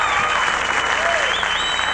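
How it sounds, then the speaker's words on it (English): An enthusiastic studio audience at a 1980s Jerry Lewis telethon applauds loudly and steadily, a dense wash of clapping with a few whoops over it. "The crowd's here, and as you can hear, they're very enthusiastic."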